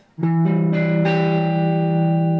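A single electric guitar chord built from four notes plucked quickly in succession. It rings out loud and sustained with light overdrive and a clean tail.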